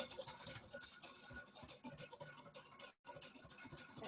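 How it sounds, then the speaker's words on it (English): Soft scrambled eggs are whisked in a pan during a cooking class, a faint, quick continuous scratching and ticking of the whisk against the pan with one brief pause. "And so keep whisking."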